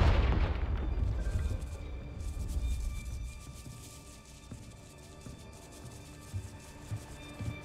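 Confringo fire spell explosion in Hogwarts Legacy, a loud booming burst at the start that decays into a fading rumble, followed by faint scattered game sounds.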